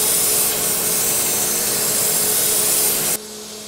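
A Cummins crankshaft being ground on a crankshaft grinder: a loud, steady abrasive rasp and whine with a constant mechanical hum that runs unbroken, then cuts off abruptly near the end, leaving a quiet machine drone.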